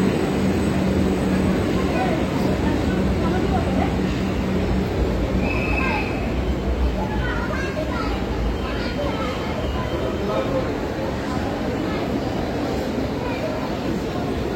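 A Kolkata Metro Green Line train rides out from Howrah, giving a steady, loud, continuous rumble of wheels and carriage noise throughout, with faint muffled voices beneath.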